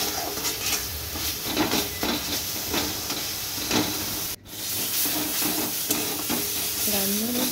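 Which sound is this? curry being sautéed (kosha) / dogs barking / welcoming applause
curry being sautéed (kosha)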